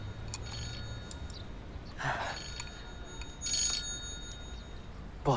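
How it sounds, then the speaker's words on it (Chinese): A telephone rings in short bursts at a dinner table, moderately loud above a faint room background. "不好意思，我接个电话。"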